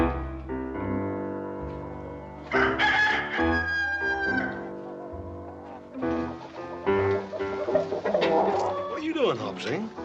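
Chickens cluck and a rooster crows in a western farmyard scene, with loud squawking bursts and flapping amid background music and voices speaking.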